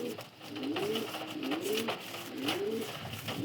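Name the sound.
adult male pigeon cooing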